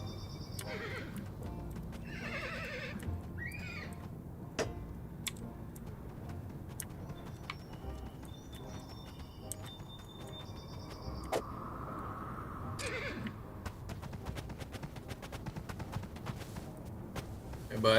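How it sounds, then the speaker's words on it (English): A horse whinnies several times in short bursts, while hooves clip-clop in a steady, ticking rhythm underneath, fairly close and clear. "Horse."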